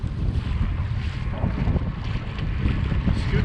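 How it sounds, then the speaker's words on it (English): Heavy wind buffeting a microphone while kayaking, a constant low rumbling roar with gusty swells and faint water wash underneath, close and continuous with no talking. "Apologize for the wind, guys. It's a little windy today, obviously."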